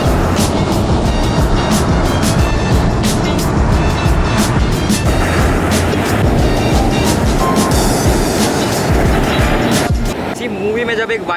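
A golf cart drives toward the beach on an empty island in Goa, its steady motor rumble and wind noise running loud and continuous for about ten seconds before dropping away.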